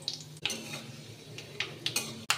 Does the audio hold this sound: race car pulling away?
no